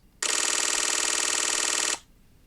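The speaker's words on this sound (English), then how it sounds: "Switch to the electronic shutter and you can fire at up to 30 frames per second depending on format, and that sounds like this." Sony A1 II electronic shutter firing a 30 frames per second burst: a steady, bright, rapid buzzing tone that starts abruptly, holds evenly for nearly two seconds, then cuts off, heard alone and close.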